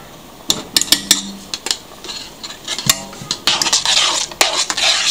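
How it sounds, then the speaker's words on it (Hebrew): A heaped tablespoon of tomato paste goes into a pot of green beans with onion and spices, a spoon clinking and scraping against the metal rim in quick irregular taps, followed by a wet stirring rustle. "אני מוסיפה כף גדושה של רסק עגבניות"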